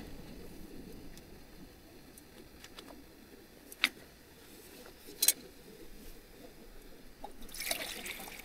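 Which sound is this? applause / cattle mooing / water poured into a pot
water poured into a pot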